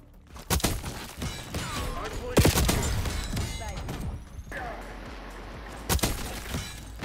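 Gunfire in Black Ops 6 multiplayer, sharp cracks and impacts scattered through the span with several loud isolated shots, amid game effects and a player speaking.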